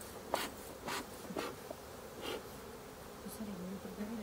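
Faint buzzing of bees at a beehive during honey harvest drifts in the background, with a few soft scraping sounds and a low hum, quiet and fairly close.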